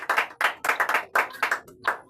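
Worshippers at a church fasting-and-prayer service clap in a quick, uneven rhythm, about eight or nine distinct sharp claps close up with short gaps between them.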